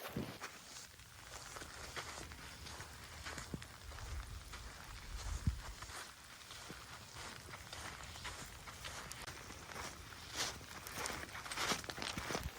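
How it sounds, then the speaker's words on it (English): Rain falls steadily on a beach while someone walks through it, a continuous soft hiss with faint footsteps and occasional louder patters, no talking. "the rain's picking up again."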